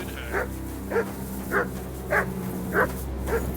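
A dog in Kingdom Come Deliverance 2 gives six evenly spaced barks about half a second apart, each short and moderately loud over a steady low background hum, with no talking.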